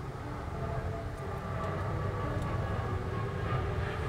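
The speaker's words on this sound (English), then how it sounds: "you guys are going to hear the planes in the background" Airplanes flying overhead, heard through an open window in an indoor room: a steady, broad low rumble that holds at a constant level for the whole stretch, with no talk over it.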